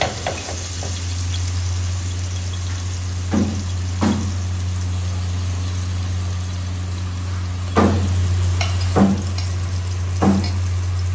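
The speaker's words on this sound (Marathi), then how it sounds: "आणि झालेला आता मॅरिनेट आणि आता फ्राय करायला घेतो" Pomfret and mandeli fish fry in a pan with a steady, close sizzle throughout, broken by a few sharp knocks and clinks of a utensil against the pan.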